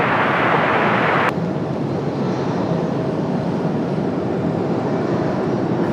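A jet airplane rolls for takeoff at Washington Dulles airport on a cloudy day, a loud, continuous engine roar that stays broad and steady after a brief hiss cuts off early.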